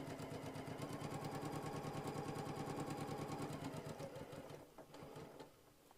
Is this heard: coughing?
no